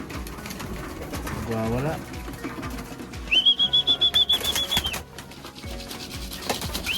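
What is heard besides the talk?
young racing pigeons arriving, flapping wings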